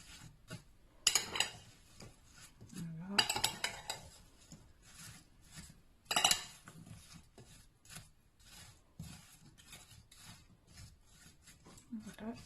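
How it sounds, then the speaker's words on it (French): A spoon mixing sliced apples with cinnamon in a dish for an apple crumble, quiet intermittent scraping and clinks against the dish, with a few louder strokes and soft background sounds between them. "je vais prendre une cuillère et je vais essayer de mélanger"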